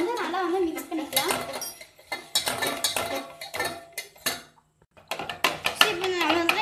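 A spoon scrapes and clinks against a bowl in bursts as vanilla essence is mixed into honey cake batter, with a voice talking over the stirring.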